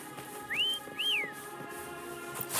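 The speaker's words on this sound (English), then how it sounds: "Try whistling." Two rising-and-falling whistled notes from a video game character calling a companion, clear over a soft ambient game soundtrack.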